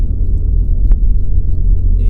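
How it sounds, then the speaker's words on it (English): Ford Mondeo 1.5 EcoBoost on a country road, heard as a loud, steady low engine and road rumble from inside the cabin, constant throughout with one faint brief click and no talking. "It's just a very nice car to drive, to be honest, on a country road like this"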